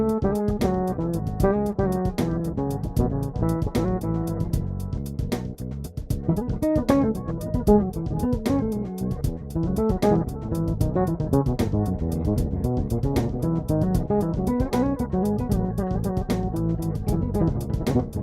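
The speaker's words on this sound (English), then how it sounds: "octave up with delay applied to that and my bass signal clean." Guitar run through an Xotic X-Blender pedal, octave up with delay on the effected side and the dry signal kept clean, playing busy melodic lines with dense repeating echoes throughout.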